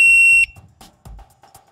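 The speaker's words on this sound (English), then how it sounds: "mistakes made while programming will cause a red light to flash and beep" A Codelocks CL5000 keypad lock sounds a loud, sustained high error tone, followed by a few faint, short beeps and clicks.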